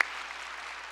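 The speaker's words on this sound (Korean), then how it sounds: "다시 한번 감사의 박수 드립니다." Applause from a church congregation during a Sunday worship service, a dense, steady clatter of many hands clapping together for about a second, fairly close and alone.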